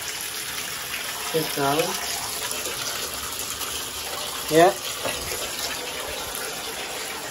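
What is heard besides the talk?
water filling a bathtub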